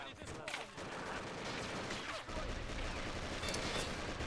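Dense, continuous gunfire in the World War II-era strategy game Men of War: Assault Squad 2 during a co-op battle in Grozny city, rattling bursts and dull booms filling the whole stretch with voices mixed in.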